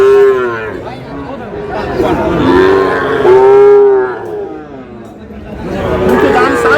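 Shahiwal bull calves and other cattle at a Dinajpur livestock market give long, loud moos, one after another, over busy crowd chatter and people bargaining nearby.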